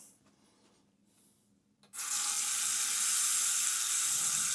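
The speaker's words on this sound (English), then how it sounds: "You want to run your water again." A sink faucet is turned on after a drain unclogging and water runs steadily and loudly, a constant rushing hiss that begins abruptly after a quiet stretch of faint handling noises.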